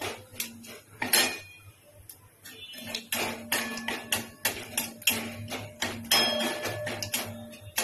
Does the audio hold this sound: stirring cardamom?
yes